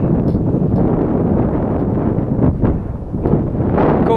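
Strong wind roars continuously across the microphone, loud and close, during a run of an Arrma Vendetta 5S RC car, with no other distinct sound standing out.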